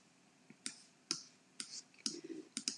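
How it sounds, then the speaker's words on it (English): Sharp, close clicks from a computer keyboard, about eight taps in quick uneven succession, quiet and with no talking. "let me type a V"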